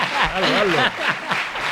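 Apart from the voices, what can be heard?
audience ovation applause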